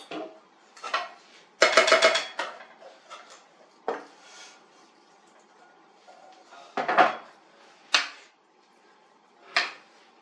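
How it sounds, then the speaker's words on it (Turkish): Cooked rice tipped from a pot into a mixing bowl for shrimp pilaf, giving scraping clinks of a spoon against the dish in several short bursts with quiet gaps between. "İlk önce pirincimizi döküyoruz."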